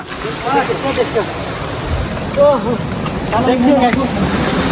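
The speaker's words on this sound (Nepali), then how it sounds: "झरना, देखियो" A waterfall in Nepal roars as a steady broadband rush, with people talking over the falling water throughout.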